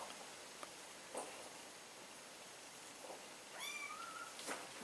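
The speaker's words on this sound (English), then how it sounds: "And these poor little kittens are really upset." Upset kittens just picked up from a shelter meow faintly in a few short, high cries, one of them a longer wavering call, over a steady background hiss.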